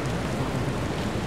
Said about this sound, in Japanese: 雨が結構降ってるんでね、高速道路下来ました。